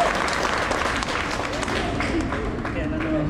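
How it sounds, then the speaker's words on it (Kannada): Loud applause from an audience honoring a guest named Kumar at a gathering, dense continuous clapping with crowd murmur running steadily throughout. "ಜೋರು ಚಪ್ಪಾಳೆ ಕುಮಾರ್ಗೆ."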